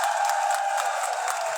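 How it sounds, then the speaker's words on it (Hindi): Sustained applause and cheering from a crowd at a Bikaner protest sit-in to save khejri trees, welcoming guest leaders, steady and dense for the whole moment. "जोरदार तालियों से स्वागत।"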